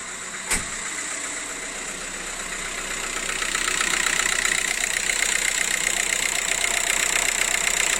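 Seat Alhambra 2.0 TDI diesel engine idling steadily after an injector repair, a sharp click at the start, then a continuous mid-pitched clatter and whir that grows slightly louder and holds, close by with no talking.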